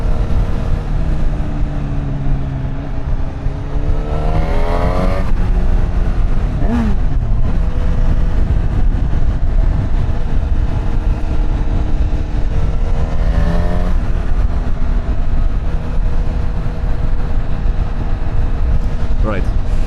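A Honda CB1000 Hornet 1000cc naked motorcycle engine drones loudly and steadily while riding in standard mode, with rising and falling rev sweeps and heavy wind rush, under intermittent talk.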